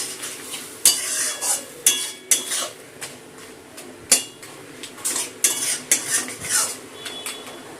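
Mashed shrimp heads with water being stirred in a metal pot, a spoon knocking and scraping the sides in quick uneven strikes with sharp clinks, close up over a faint wet sizzle.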